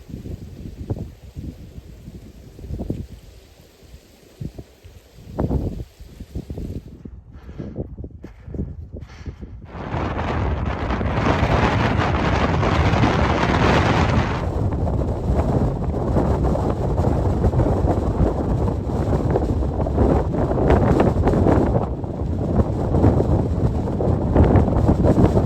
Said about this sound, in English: this might be pretty windy up here